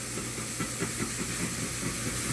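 A one-pound hamburger patty, a stuffed Juicy Lucy, cooking on a hot surface, giving off a loud, steady, steamy hiss and sizzle with no talk.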